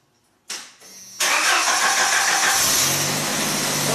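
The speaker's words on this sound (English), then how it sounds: "Brad, you want to go ahead and crank it up, see if it starts?" A Jeep engine with a newly shimmed starter cranks briefly, then fires and catches, settling into a loud, steady idle close by.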